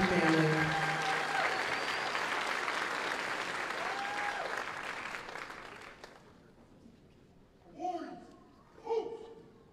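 Audience applause for retirees and their families at a Fort Jackson Army basic training graduation ceremony, a loud sustained crowd clapping that fades out after about six seconds, followed by two brief bursts of voices.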